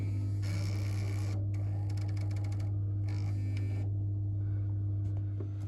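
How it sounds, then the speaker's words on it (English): Plumbing system motor running after power-on in a refilled pressurised setup, a steady loud mains-like hum underneath with intermittent buzzing, whirring bursts that start and stop several times. "System's full, so now I'll pop the motor back in. Power on"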